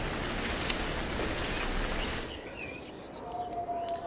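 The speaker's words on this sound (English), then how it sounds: "Alright, it's raining." Steady rain falling in the village-building video game Villagers, a soft continuous hiss that thins out halfway through, leaving quieter ambience with faint bird-like chirps and tones.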